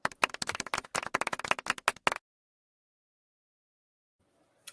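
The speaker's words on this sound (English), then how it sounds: "I feel like this is a derogatory golf clap." Sparse, polite golf clap from a small group, a quick run of light hand claps lasting about two seconds before stopping abruptly into silence.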